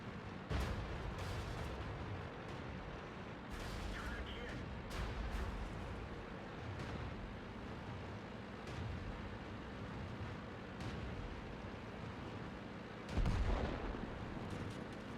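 Tank cannon shots from the video game World of Tanks on the Sacred Valley map, heavy booming blasts scattered across the clip among dense battle noise, with one loud nearby shot standing out near the end; people talk over it.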